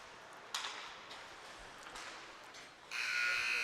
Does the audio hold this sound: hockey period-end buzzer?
yes